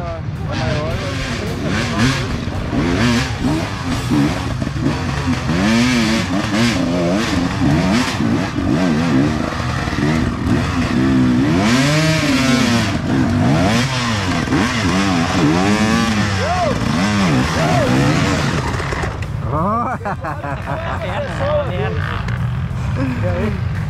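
Trail motorcycles revving hard on a muddy dirt trail during a trail ride event, engines rising and falling repeatedly up close, loud throughout with voices underneath.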